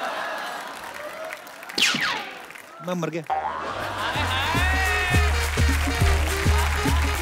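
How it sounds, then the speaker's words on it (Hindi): A studio audience applauds and cheers on a Hindi comedy talk show, a dense burst of clapping that rises after a short spoken line, with a comic sound effect and voices heard along with it. "जोरदार तालियां एक बार जैकलीन और सिद्धार्थ के लिए."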